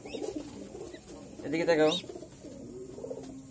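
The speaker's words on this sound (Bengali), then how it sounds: "তো এই যে কবুতরটা, সেই লাগতেছে।" Pet pigeon cooing softly in a home loft, with a louder burst of calls midway, mixed with a person talking nearby throughout.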